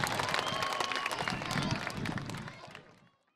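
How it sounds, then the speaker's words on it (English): An audience applauds third graders at an elementary school renaming ceremony, a brief burst of crowd clapping mixed with voices that fades out after about three seconds. "Big round of applause to our third graders and Sandunga"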